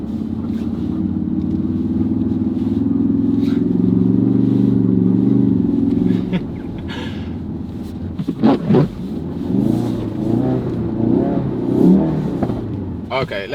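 A Ford Focus RS drives through deep snow on fresh Michelin Pilot Sport 4S tires, its engine droning steadily and loudly, then easing off with crunching, uneven bursts as the car slows and crawls. People talk over the engine in the later part.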